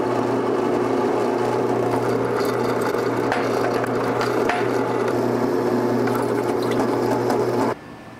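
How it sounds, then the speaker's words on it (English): Continuous close buzzing hum of a welder tack welding a steel footpeg bracket on a Triumph Desert Sled motorcycle, steady for about eight seconds before cutting off abruptly. "It was then time to hold it where I want it and tack it in place."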